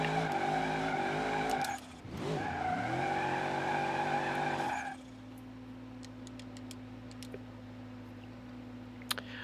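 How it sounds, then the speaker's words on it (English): A car in BeamNG.drive doing a fifth gear burnout on a Roadkill 200BX project build, a steady loud engine drone with layered harmonics, a brief dip and rev swing, then settling into a lower sustained hum with scattered ticks. "It can do a fifth gear burnout"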